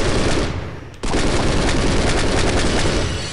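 Dense, continuous gunfire with rapid bursts filling the whole clip, loud and close, with a brief dip before the shooting surges again; no voices; in Postal 2: Apocalypse Weekend.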